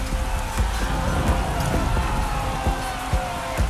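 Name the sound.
heavy rain downpour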